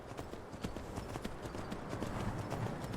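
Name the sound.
horse hooves trotting, from a video game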